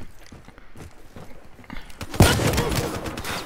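Sniper rifle shot in a video game, a single loud sharp crack after quieter scattered clicks and steps, followed by a sustained noisy echoing tail.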